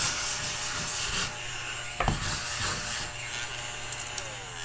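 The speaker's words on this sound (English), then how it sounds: "I was just cleaning up the eraser goblins because I just drew this XO" Steady rubbing and brushing of eraser crumbs off a paper journal page, close and soft, with a sharper scrape partway through and no talking.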